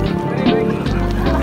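A chicken clucks and squawks close by, short repeated calls over a steady background with some voices.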